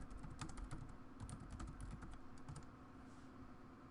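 Quick bursts of keystrokes on a computer keyboard as a web search is typed in, the taps close and crisp in uneven clusters, then a brief pause near the end with no speech.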